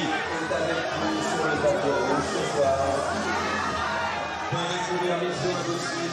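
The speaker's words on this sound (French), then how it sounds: "Je ne sais pas si vous entendez les cris de la foule ici" Fans crowding the Cannes red carpet for Tom Cruise, a continuous roar of shouting and cheering voices, loud and close, with babble throughout.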